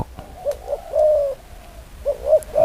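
Dove cooing in a Thai dove cooing contest, a close, clear series of soft rolling coos in two bursts separated by a short pause, with faint background noise.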